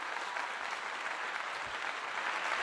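Steady applause from a crowd fills the whole stretch at an even level, a dense wash of clapping with no voices standing out, celebrating a super chat during a live stream.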